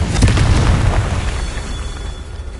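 Confringo fire spell blasts in Hogwarts Legacy, a dense run of booming explosive bursts at close range, loudest at the start and fading slightly as they continue, no talking.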